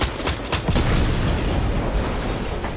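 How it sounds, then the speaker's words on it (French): A huge explosion in Fortnite booms loudly, followed by a dense, sustained rumble and crackle of noise with a few sharp pops near the start. "la giga explosion"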